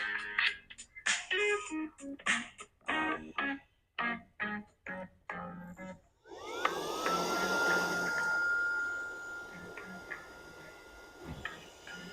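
Clicks and short bursts give way to a Saker 3-in-1 mini cordless vacuum cleaner whirring up to a steady, loud hum that holds to the end.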